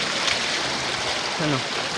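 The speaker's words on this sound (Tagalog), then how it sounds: "Diba ang lakas ng tubig, malinaw." Water rushes steadily from a pipe, a constant close hiss of strong flow, with a brief voice-like sound partway through.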